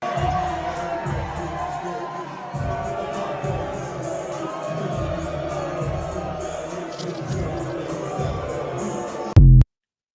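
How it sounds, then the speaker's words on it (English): Patrons in an Alabama bar cheer and shout during a football game, a loud, continuous crowd roar with pulsing swells of voices that cuts off abruptly near the end. "Here's a Alabama bar responding to the Kamala Harris ad during the game"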